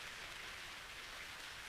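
Steady, soft rain falling in a quiet indoor sleep-story setting, heard from a window onto a wet street with puddles; a faint, even hiss with no breaks or voices.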